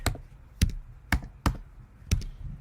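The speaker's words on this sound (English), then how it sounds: "Can't even type it." Keys on a computer keyboard are struck in a sparse, uneven run of about six sharp taps, close and fairly clear against a quiet room.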